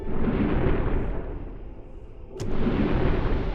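In a U-boat submarine video game, a torpedo explosion gives a heavy, loud rumbling roar. It dips briefly, then a sharp crack sets off a second surge of booming rumble.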